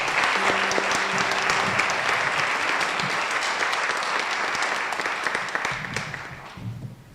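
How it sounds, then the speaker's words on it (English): Audience applause for student string players at a high school strings concert, a dense steady wash of clapping that swells loud and then thins and fades toward the end. "Round of applause for all 4 of them."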